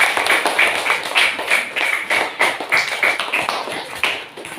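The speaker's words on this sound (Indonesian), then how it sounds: "kita beri aplaus kepada kelompok 1." A classroom of students claps for a group, with steady rhythmic hand claps continuing close and loud for several seconds, no talking over them.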